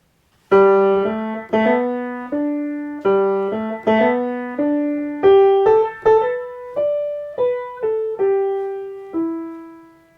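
Solo piano plays a gentle waltz-time melody in slip-note style, where quick grace notes slide into the main notes, giving a bent, country-style feel.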